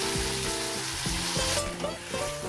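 Boiled potato, onion, tomato and green chilli hit hot oil in a wok, giving a continuous loud sizzle with scraping stirs and a rhythmic metallic clatter, with no talking.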